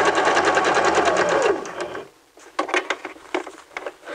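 A sewing machine stitches fabric in a steady, fast mechanical run for about two seconds, then stops. A few short clicks and handling taps follow.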